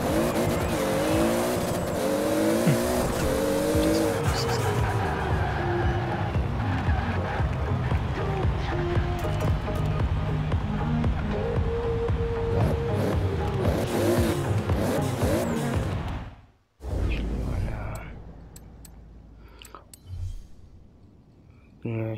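A fully upgraded, half-priced Toyota Supra in the Forza racing game roars down a drag strip. The loud engine note climbs steadily, mixed with tire squeal, then cuts out abruptly near the end before a brief, quieter rumble returns.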